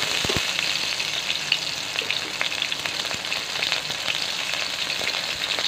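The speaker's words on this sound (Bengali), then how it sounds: "তো করলাটাকে কিন্তু লাল লাল করে ভাজছি আমি।" Cut bitter gourd (karela) fries in a little oil in a wok, giving a steady, close sizzle with scattered crackles and pops that runs evenly throughout, with no talking.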